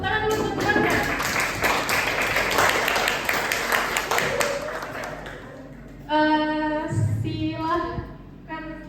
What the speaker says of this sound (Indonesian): Ya, tepuk tangan dulu teman-teman